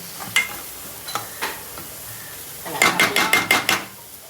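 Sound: stirring prawn and fish masala with coriander in a pan

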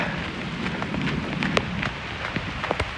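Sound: rain falling on basketball court

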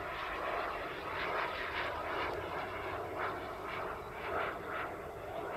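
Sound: RC sport jet Tuono NRG flying overhead

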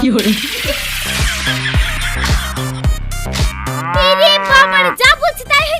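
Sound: cow mooing, comic effect of a man turned into a cow

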